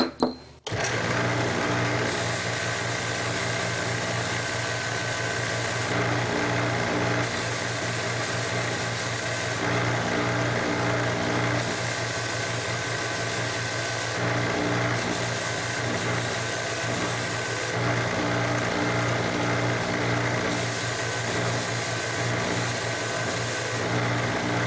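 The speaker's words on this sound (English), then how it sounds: "I'll do that on the filament abrasive wheel." A filament abrasive wheel brushes the hex edges of machined Spridget pushrods, producing a steady motor whir that holds evenly for over twenty seconds after a brief start-up transient.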